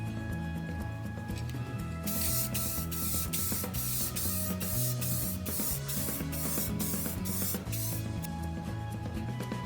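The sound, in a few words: Krylon spray coat being sprayed to seal a painted plaque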